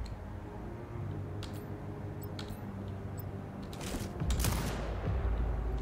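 Turret fire in the shooter game Sniper Ghost Warrior Contracts 2: a few sharp distant cracks, then a louder burst of rapid gunfire near the end over a steady low game rumble.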